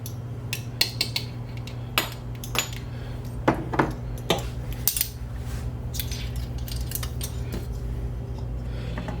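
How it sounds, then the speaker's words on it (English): Metal measuring spoons on a ring jangle and clink together while mustard is measured, sharp irregular clatters close by, busiest early on, over a low background hum. "I know I should take the rest of the spoons off, but it's just easier to keep them all together so I can find them."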